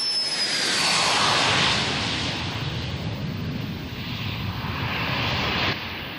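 A Grob business jet roars loudly with a broad, steady rush of jet engine noise and a thin high whine, swelling early and then holding steady, heard alone without talk.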